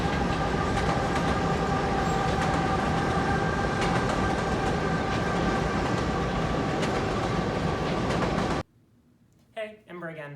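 Riding aboard a passenger train: a loud, steady rumble with rolling rail clatter and a faint high whine fills most of the clip, then cuts out abruptly, and a voice speaks briefly near the end.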